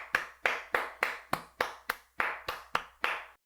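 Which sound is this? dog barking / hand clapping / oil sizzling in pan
hand clapping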